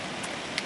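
Steady rain falls on a backwoods campsite near Nanaimo, BC, as a dense, even hiss that fills the whole brief moment.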